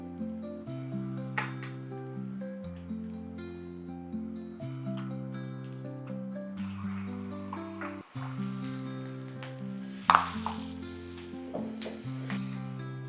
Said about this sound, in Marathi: त्यासाठी मी थोडेसे शेंगदाणे याच तेलात तळून घेणार आहे.